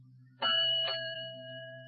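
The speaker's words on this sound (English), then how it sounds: "There's my ship's clock ringing" A ship's clock rings two clear bell strikes in quick succession, close and bright, the second note lingering and slowly fading over a low steady hum.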